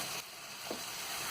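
Fresh cauliflower and potato pieces dropped into a hot pan for aloo gobi, giving a soft, steady sizzle with a faint clatter partway through, heard quietly with no voices.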